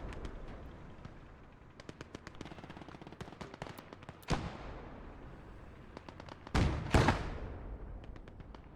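A quad-mount machine gun in the WWII strategy game Gates of Hell: Ostfront fires rapid bursts of rattling shots, joined by a few louder heavy blasts that boom and decay, over a distant battle backdrop.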